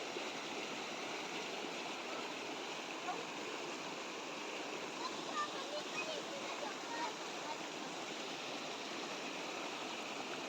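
Water streams out of a farm field along its drainage channel, a steady rushing and gurgling flow heard close and continuous, with talk over it at times.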